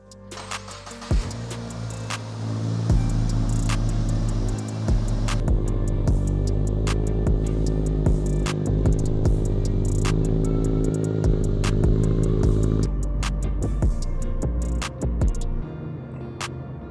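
A 2022 Subaru WRX engine idles then hums steadily while driving, with sharp clicks and ticks scattered throughout, the drone dropping away near the end.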